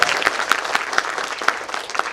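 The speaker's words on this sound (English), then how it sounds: "Please give a big round of applause for Khalid Mustafa." Audience at a personality-grooming workshop breaks into steady, close applause, a dense wash of clapping with sharper individual claps popping out, lasting the whole moment without speech.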